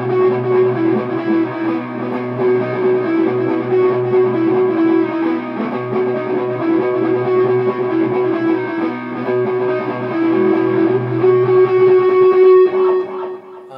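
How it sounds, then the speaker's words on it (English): An electric guitar plays the main intro riff of a song, a steady, distorted repeating figure that continues unbroken and close for the whole stretch, then stops abruptly at the end. "So that's kind of the main riff that plays through the intro."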